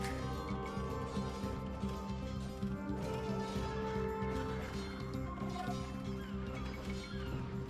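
Horse neighing in Age of Empires 2, a faint whinny set inside a busy, steady wash of game music and ambient battle noise that runs the whole way through.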